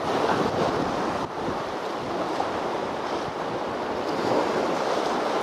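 Strong wind roars on a rocky seashore during shore slow-jigging for rockfish, with waves surging beneath it. The noise is a steady, dense rush throughout, with no voices.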